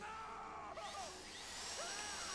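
Video game drill grinding through a vault during the GTA Online Fleeca Job heist, a continuous whining tone with rising and falling pitch sweeps, steady and fairly close with no pauses.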